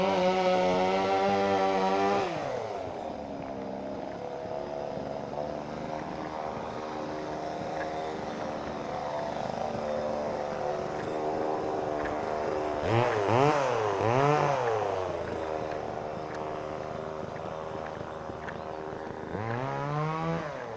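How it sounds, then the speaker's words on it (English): A chainsaw runs somewhere in the countryside of southern France, a sustained buzzing whine that is mostly steady, then revs up and down in surges near the middle and again at the end, at a moderate distance with no talking. "You can hardly go out for a walk without hearing a chainsaw somewhere."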